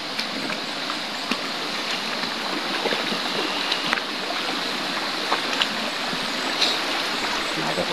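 Outdoor crossing of a flowing creek, with a continuous rushing and trickling water wash filling the scene and occasional splashes and small knocks scattered across it.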